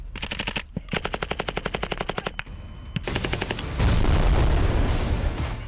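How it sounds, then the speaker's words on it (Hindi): Heavy gunfire at the India-Pakistan border in Jammu: rapid bursts of machine-gun fire crack out in a fast rhythm, then give way to a denser, rumbling barrage of loud shots and booms. "कभी ताबड़तोड़ फायरिंग"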